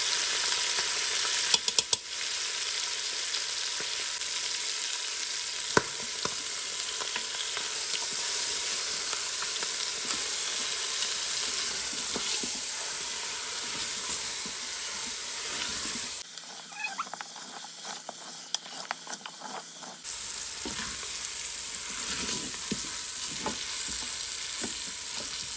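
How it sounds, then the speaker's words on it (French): Salt, pepper, ginger and turmeric sizzle and fry in a Cookeo pot while being stirred, a steady close frying hiss with light scraping, briefly dipping midway before resuming. "une fois qu'on a bien mélangé nos épices"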